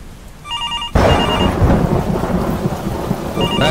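Heavy rain pours with a loud, close crack and rumble of thunder, while a telephone rings in repeated electronic trills near the start and end of the clip.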